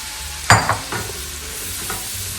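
Mushrooms and minced garlic sautéing together in a pan for bacon rice, a few sharp stirring clatters early on over a soft, steady background sizzle.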